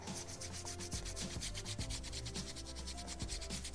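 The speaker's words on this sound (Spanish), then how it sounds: "me voy a ayudar con un pincel para brocha seca. Retiro el exceso y nos vamos a ir suave" A dry paintbrush rubs steadily back and forth along the edge of a Christmas picture frame made from recycled materials, a close, continuous scratchy brushing with a rhythmic stroke pattern.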